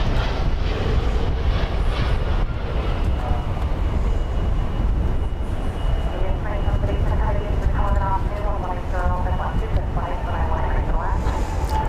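An airliner is pushed back from Terminal D at DFW airport, its engines giving a continuous mid-level whine and rumble with a warbling tone, while people talk in the background.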